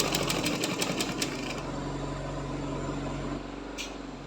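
A sewing machine runs steadily, stitching a double-folded half-inch rounded hem on a baby's jabla garment, with a continuous close motor whir and needle chatter that eases slightly near the end.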